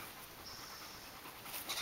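A dog pants rapidly and steadily close by, a continuous run of quick breaths with no talking.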